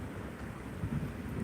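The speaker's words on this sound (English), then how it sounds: "You can hear the thunder" Low, distant thunder rumbles softly over a steady wash of background noise in smoky mountain-town air during a wildfire, swelling briefly before fading.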